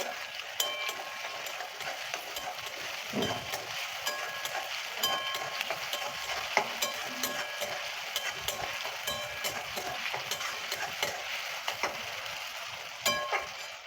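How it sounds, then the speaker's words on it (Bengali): Onion and tomato fry quietly in a pan with a faint, continuous sizzle, broken by scattered clicks and scrapes from stirring throughout. "দেখুন বন্ধুরা পেঁয়াজের সাথে টমেটোটাও আমি ভালো করে ভেজে কষিয়ে নিয়েছি"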